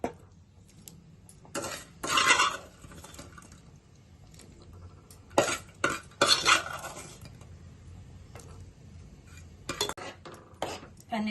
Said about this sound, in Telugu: ఇలా కలుపుకొని మనం ముందుగా వేపుకొని పక్కన పెట్టుకున్న పన్నీర్ ముక్కలు వేసుకుందాం.